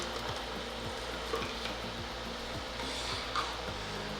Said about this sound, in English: drop your beetroot gnocchi in from frozen